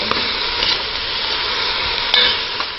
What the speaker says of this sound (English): we're going to saute this just in oil, just a very small amount of oil at the bottom of the pan